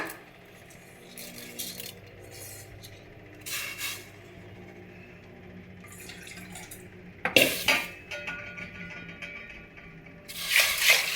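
Water is poured into a pot of horse gram for a Kannada-style saaru, with about two and a half cups of water per cup of gram. A soft, steady trickle runs under occasional clanks of the pot, with louder splashy bursts near the middle and the end.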